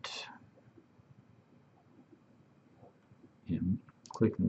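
Quiet room with a few sharp computer mouse clicks during an IoT setup: one at the start, then a couple of louder close clicks near the end, with faint speech around them.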